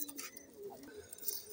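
Flyer pigeons give soft, faint coos against a low, quiet background, with no talk.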